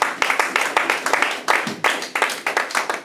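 A church congregation clapping together in a fast, rhythmic beat, sharp close hand claps repeating steadily, with faint voices mixed in.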